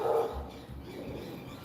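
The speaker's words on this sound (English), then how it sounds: "You can hear the botsy barking his head off." A dog barks in the distance, a few muffled, indistinct yelps behind a room-tone hum, faint and brief.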